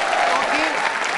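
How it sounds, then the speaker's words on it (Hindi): Loud, dense applause from a quiz show audience at VIT East, a continuous roar of clapping over a brief moment with voices mixed in. "तालियां ज्योति के लिए जोरदार तरीके से बजाइए आप"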